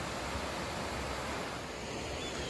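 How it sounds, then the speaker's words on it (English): A small waterfall on a wet, rocky stretch of the Appalachian Trail near the Kennebec River gives a steady, unbroken rushing wash of water, moderately loud and constant throughout. "there's another little waterfall down there"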